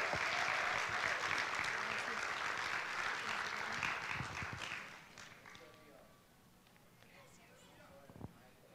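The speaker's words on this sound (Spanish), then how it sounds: "Dele un aplauso al Señor" Applause from a church congregation at an evening worship service, a dense sustained clapping that fills the first five seconds, then thins and fades away, leaving quiet room noise and a few scattered claps.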